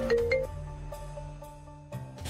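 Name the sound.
phone ringing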